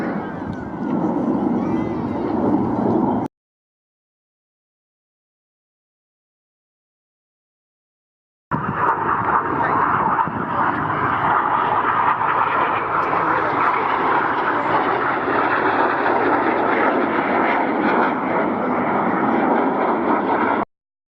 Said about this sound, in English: It's quite unusual for a Lancaster to be rolled.